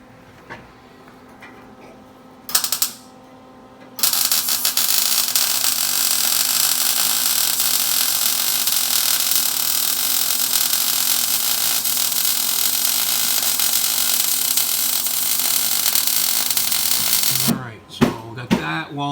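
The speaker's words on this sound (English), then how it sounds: "so I'm welding this side up" Sheet-metal wheel tubs are welded into a Nova wagon: a few short crackling bursts start things off, then a loud, steady, harsh hiss runs for about thirteen seconds before stopping with some clatter.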